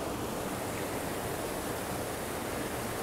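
Steady broadband rush of a river flowing at a hiking river crossing in Coire Gabhail, Glen Coe, continuous and fairly close, with no voices.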